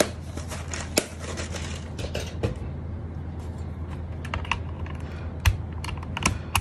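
Continuous rapid keystrokes on a Fantech Maxfit67 mechanical keyboard fitted with orange switches, close and steady with a few sharper louder clacks, no voices.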